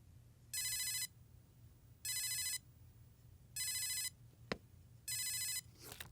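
A phone ringtone repeats in four evenly spaced electronic bursts over a low background hum, with a brief sharp click between the third and fourth rings.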